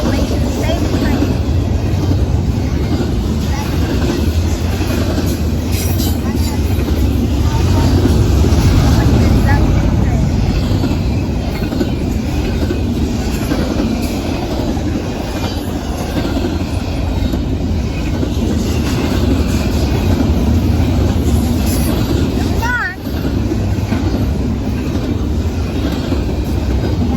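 A long, heavy Norfolk Southern double-stack freight train with distributed power units rolls past close by, a loud continuous rumble and rail roar with faint clatter, and voices talking over it.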